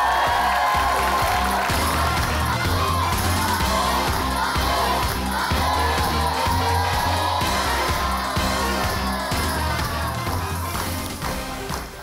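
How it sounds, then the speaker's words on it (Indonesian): Studio audience at an Indonesian TV game show clapping and cheering loudly and continuously for a team, a dense crowd roar with rhythmic band music underneath. "tepuk tangan yang meriah untuk Garis Indonesia"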